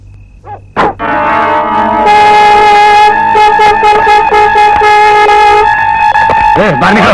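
A loud car horn blares in one long sustained honk lasting several seconds, with voices shouting just before and after.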